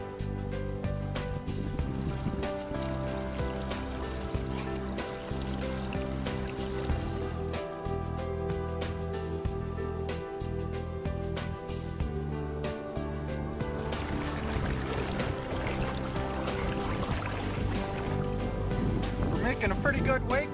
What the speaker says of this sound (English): We're making a pretty good wake right now as we're powering home towards port